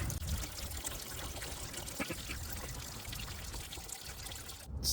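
Coolant pouring and trickling from the drain valve of a Chevrolet Silverado or GMC Sierra truck, a steady close splashing stream that runs for the whole stretch with no talk.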